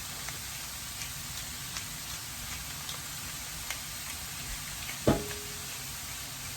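Bacon frying in a pan for hobbit hash, a steady soft sizzle with scattered pops and one sharp clink near the end, close and quiet with no talk.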